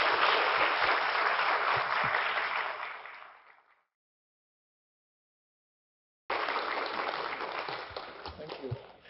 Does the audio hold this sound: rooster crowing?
no